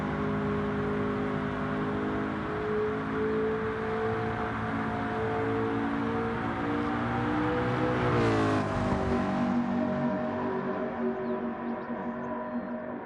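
A Ford GT test car's engine holds a steady, throaty drone, then swells into a brief rev with rising pitch before settling back to a smooth idle-like hum, heard close and alone.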